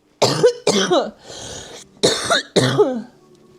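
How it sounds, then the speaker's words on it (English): A person coughs several times in quick harsh bursts, with a raspy throat-clearing wheeze in the middle, close and loud. "Coughing my lungs up."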